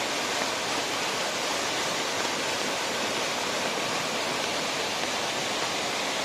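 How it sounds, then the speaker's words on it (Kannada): Monsoon rainwater rushes in a steady, loud, unbroken roar of water for the whole stretch, with no voices or other sounds breaking through. "ಈ ನೀರಿನ ಶಬ್ದ ಒಳ್ಳೆದ, ಜಲ ಜಲ ಜಲ ಜಲ ಜಲ ಅಲ್ಲಿ."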